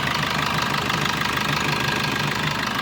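Close to the open bonnet, the diesel engine of a 2018 Maruti Brezza ZDi automatic ticks over at idle with a steady, rhythmic knocking rumble that stays loud and unchanging throughout.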